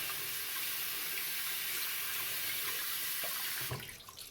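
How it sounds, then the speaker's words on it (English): Running tap water pours steadily over a Chubby 3 shaving brush being rinsed at a sink, a close continuous splashing that stops abruptly near the end. "And the Chubby 3, I'll just give this a quick rinse off."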